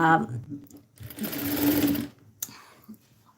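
Sewing machine stitching pajama fabric, running in a short burst of about a second, close and loud, with a person talking around it.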